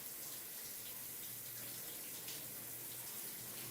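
A shower runs steadily, a continuous soft hiss of falling water with no breaks, fairly faint and even throughout, with no voices.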